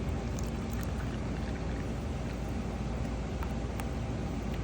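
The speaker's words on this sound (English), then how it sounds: "just by pouring the hot water, that already dilutes or mixes the dyes really well" Hot water pours steadily into powdered dyes, a continuous dense splashing rush with no break and no speech.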